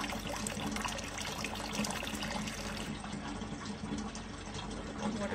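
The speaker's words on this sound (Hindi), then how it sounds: "तो वाटर पंप में पानी भरने गई है?" Water splashing and trickling steadily as cans and bottles are filled at a public water pump in summer, continuous and moderately loud with voices faintly mixed in.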